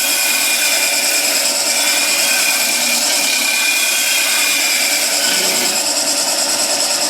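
A skew gouge cuts a spinning wood workpiece on a lathe, a loud continuous hissing, scraping shear with bright high content, steady for the whole stretch with no talking.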